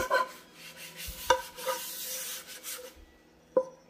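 A brush scrubs a Ninja Foodi Neverstick Premium nonstick pan in quick, close, rasping strokes for a few seconds, with a couple of sharp knocks against the pan.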